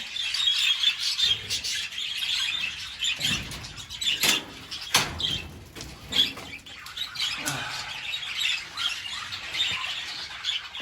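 Budgerigars in a garden aviary keep up a busy chorus of chirps, squawks and chatter, with bursts of wingbeats. The birds sound fairly close and there is no talk.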